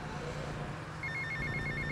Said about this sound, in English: phone calls in this game are pretty annoying because you can't do anything while you're on a call